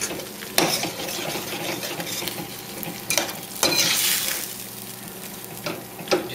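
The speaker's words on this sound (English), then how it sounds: "I'm going to add the chickpeas straight from the can, just washed." Washed canned chickpeas hit a hot pan and are stirred, giving a continuous sizzle with a few sharp scraping stirs and clatters of the utensil against the pan, close and moderately quiet.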